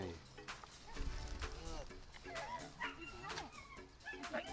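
A puppy whimpers and yips in short high bursts during an obedience training session, close and fairly loud, mixed with a person talking over it.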